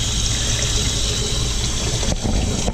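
Warm tap water running hard from a faucet into a sink before cleaning a trumpet, a loud, steady gush close up that briefly dips near the end.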